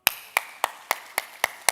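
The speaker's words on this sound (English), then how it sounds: "Everyone give him a clap." Seven evenly spaced sharp claps, crisp and close, in a steady rhythm at a TEDx talk, with no talk over them.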